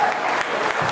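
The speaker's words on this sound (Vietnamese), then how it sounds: "xin quý vị cho một tràng pháo tay thật to" Audience applause for a singer at a Vietnamese-language stage show, a dense, steady wash of clapping filling the whole second at fairly loud level.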